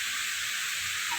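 Steam hisses steadily from cabbage cooking in a covered pan over medium gas, a continuous soft, bright rush with no other sounds.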